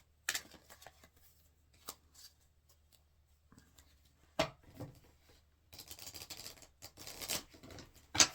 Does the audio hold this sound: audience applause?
no